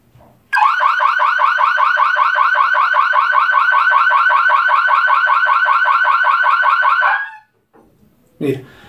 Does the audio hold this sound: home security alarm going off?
yes